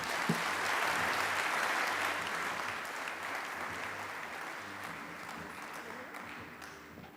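Sustained audience applause at an industry conference, a dense wash of many hands clapping at steady volume that slowly tapers, with no talk over it.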